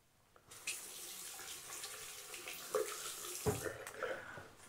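Water runs steadily from a shower in a hostel in Kaunas after a brief quiet start, with a few soft knocks and splashes breaking the continuous hiss.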